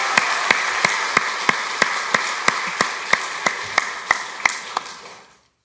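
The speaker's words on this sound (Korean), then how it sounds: "박수 좀 해주시죠." A church congregation applauds teachers and kindergarten children: a crowd claps in unison with a steady, evenly spaced beat, about a dozen strong claps over a clapping wash, then cuts off abruptly.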